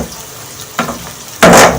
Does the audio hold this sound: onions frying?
yes